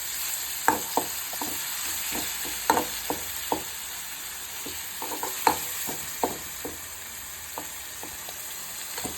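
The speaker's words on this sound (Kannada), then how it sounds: "ಆ ಮೆಣಸಿಕಾಯಿ ಹಸಿ ವಾಸನೆ ಹೋಗೋವರೆಗೂ ಸ್ವಲ್ಪ ಎಣ್ಣೆಯಲ್ಲಿ ಫ್ರೈ ಮಾಡಿ" Green chillies frying in oil in a pan, a steady high sizzle broken by a dozen sharp spoon scrapes and taps as they are stirred, close and fairly quiet, with no talking.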